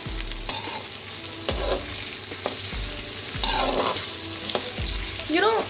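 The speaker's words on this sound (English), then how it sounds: "We have just put it into the oil and it will take time to saute" Potato and cauliflower sautéing in hot oil for aloo gobi, a steady close sizzle broken by several sharp stirring scrapes and clatters through the pan, no voices.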